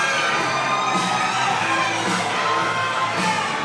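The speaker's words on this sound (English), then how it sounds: "Chris Carter making his way into this arena to a chorus of applause and a standing ovation." An arena crowd at a professional wrestling event cheers, shouts and whoops loudly for a wrestler's entrance, a dense, continuous roar that fills the whole moment without letup.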